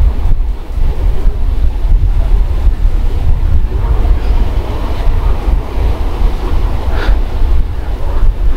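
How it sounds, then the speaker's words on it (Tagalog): Strong wind and ocean waves at a beach, a loud continuous roar of surf mixed with heavy wind buffeting the microphone, constant and close with no voices. "Medyo mahangin."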